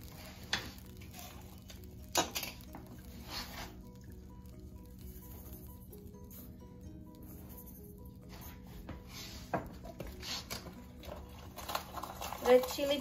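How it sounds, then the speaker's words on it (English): Ground tomatoes are stirred in a cooking pot for Kashmiri baingan, giving soft scraping and wet rubbing sounds with occasional spoon knocks against the pot, fairly quiet throughout. "grinded tomatoes. Mix it nicely."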